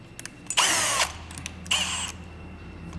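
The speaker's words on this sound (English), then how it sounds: "I'll just drill a big hole into the radius" Power drill boring a hole through a Jeep JK hood, two loud bursts of whining drilling separated by a short pause, close up with no talking.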